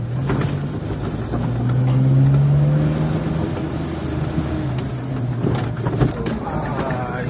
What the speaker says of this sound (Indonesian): Ini jarang mobil yang masuk sini nih. Ini juga mobil yang masuk sini.